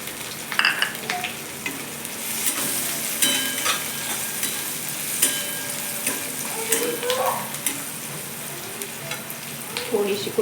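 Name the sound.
chillies and turmeric sizzling in frying pan for kanda poha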